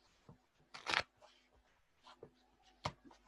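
A deck of playing cards being shuffled, with a loud riffling burst near the start and a few shorter card flicks and taps afterward, close up and without speech.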